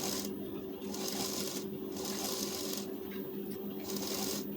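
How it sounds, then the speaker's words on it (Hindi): A sewing machine stitches a blouse lining and fabric together, running with the presser foot set to light pressure. A steady, close hum continues throughout, with several sharp bursts of stitching rising and falling along the seam. "बूट से हल्का कम दबाव लेकर सिलाई चलाएंगे"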